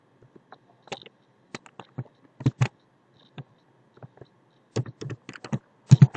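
Code examples are typed on a computer keyboard in irregular bursts of crisp, close key clicks separated by short pauses, with a few louder strikes toward the end and no voice.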